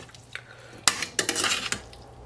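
Metal tongs clatter against a pan while tuna pasta with oil, herbs and garlic is tossed, producing sharp clinks and bursts of scraping close up.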